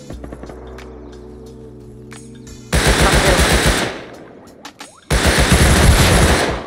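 Bursts of AK assault rifle fire in the Rust video game, two long, loud automatic volleys of rapid shots with a quiet gap between them.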